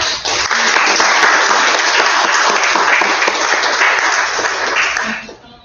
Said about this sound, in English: I just want us to give a round of applause to Ms. Sandra Rice.